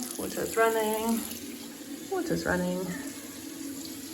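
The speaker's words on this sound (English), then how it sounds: "Okay, water's running." Tap water runs steadily at close range, a continuous hiss beneath a person speaking briefly over it, during a test of a repaired smelly drain.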